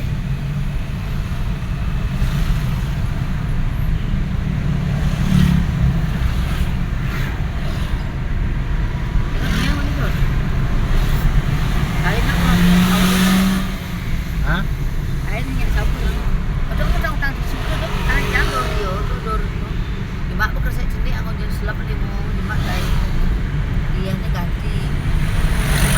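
Dense, continuous road traffic rumbles through a jammed street, with engines idling and creeping along close by and occasional louder passing vehicles, steady throughout.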